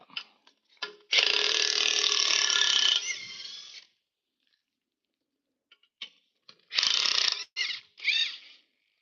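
A ratchet works on the leaf spring bolts of a Toyota HZJ75 Troopy, giving two bursts of rapid, close clicking, a long one then a shorter pair, with brief quiet taps between.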